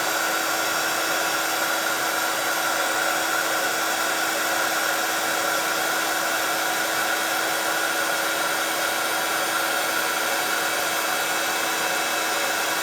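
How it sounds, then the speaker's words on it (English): A heat gun blows continuously at close range, a loud, steady whirring hiss with a constant tonal hum and no breaks, without anyone speaking. "get my heat gun going"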